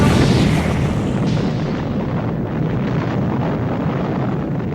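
A deep, sustained rumbling roar like a massive explosion, loud and continuous with no distinct separate blasts, fading slightly after the first second.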